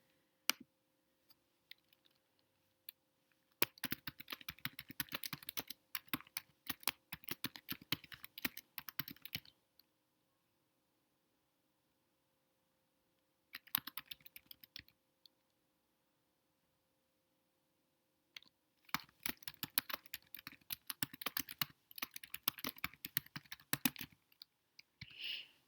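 Bursts of typing on a computer keyboard, quick clattering keystrokes close by, broken by long silent pauses between three separate runs, with no talk.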